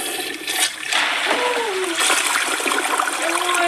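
A toilet flushes close by, a loud swirling rush of water with splashing and gurgling that runs steadily through the whole stretch.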